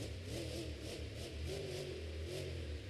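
The Terminal Velocity monster truck's engine revs at a Monster Jam stadium show, a deep rumbling drone that surges and eases in repeated waves, heard from a distance under a broad wash of arena noise.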